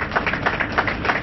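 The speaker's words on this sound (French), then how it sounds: "Même les plus sceptiques saluent le génie en applaudissant" An audience applauding, a steady patter of many hands clapping at moderate volume throughout a short, narrow-band burst.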